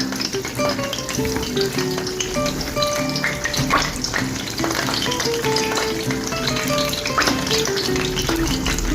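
Dumplings fry in a pan with gravy, giving a steady, close sizzle that runs the whole time, with soft stirring and faint tones in the background.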